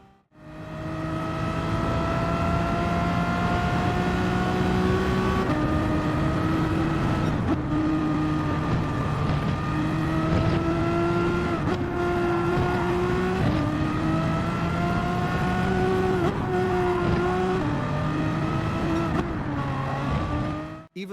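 A race car at Brands Hatch in Gran Turismo 7 howls steadily at high revs, its engine note shifting up and down through gear changes and corners for a sustained, close-up run.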